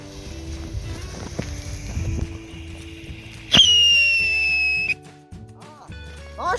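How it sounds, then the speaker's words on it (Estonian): A pirate whistle firework bursts in with a sharp, loud shrill whistle that holds a slowly falling pitch for over a second before cutting off, with crackling and clatter around it. "Nüüd võtame siis need piraadiviled."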